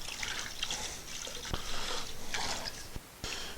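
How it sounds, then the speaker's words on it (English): Water trickles and splashes while shop cabinet drawers are washed out with soap and water, with a few sharp knocks and clicks of the drawers being handled, faint and steady throughout. "And I'm gonna wash these out"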